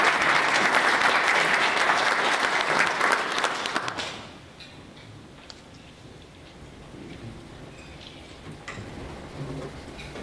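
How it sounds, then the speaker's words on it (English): A crowd at a South Carolina legislative update applauds the senators and a representative as they are introduced, loud dense clapping that holds for about four seconds and then cuts off, leaving quiet room noise. "Give them a round of applause."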